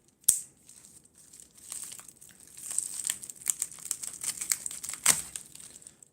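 Plastic knife packaging being cut open, a sharp snap at the start followed by steady crinkling and crunching of stiff plastic, close and fairly quiet.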